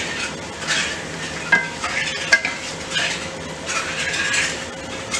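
Tomatoes sizzling and frying in a pan for pinakbet vegetable stew, with a continuous crackle broken by stirring scrapes and a few utensil clinks against the pan, close and moderately loud.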